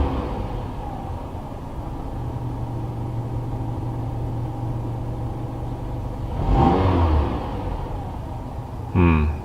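A car engine on which MAF sensor cleaning and diagnosis is being done, idling and then given a brief blip of throttle that swells the rumble near the end, with a second short rev right after.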